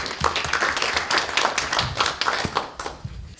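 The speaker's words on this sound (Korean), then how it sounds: "박수로 한번 맞이해 주시면 고맙겠습니다." Audience applause at a university presidents' summit session on structural reform, a steady wash of many hands clapping for the full stretch without pause or talk.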